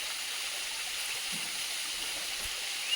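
Water pours steadily at Tumarkothi waterfall in Bhamragad, Gadchiroli, a constant broad hiss heard from a distance with no voices, holding even throughout.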